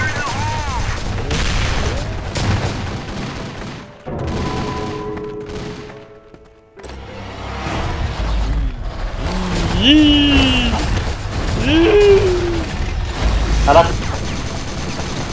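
Gunfire bursts from the zombie mode of the video game CrossFire, with game effects and chirping tones, heard under excited shouting from players.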